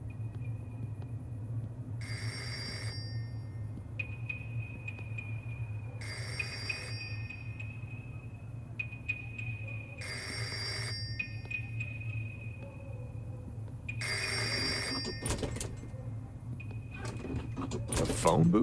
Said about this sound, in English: Oh, is that a phone ringing?